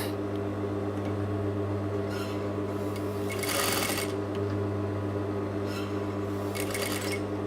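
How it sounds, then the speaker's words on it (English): A sewing machine stitches a curved, rounded lined pocket in stop-start bursts over a steady motor hum, with brief pauses between runs and no talking. "because it's a curve, we just need to stop and start, making sure that we are stitching a nice smooth curve"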